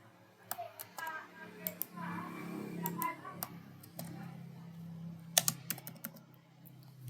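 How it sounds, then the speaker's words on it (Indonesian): Keys on a computer keyboard are typed in short irregular bursts of clicks over a low steady room hum, while an answer is entered into a quiz, with no talk. "kita ketik jawaban, misalkan jawabannya pupa"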